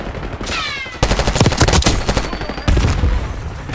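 Gunfire in Call of Duty: Black Ops 6 multiplayer, loud close rapid automatic bursts that cut in sharply, pause, then resume, with a brief whining sound before the first burst.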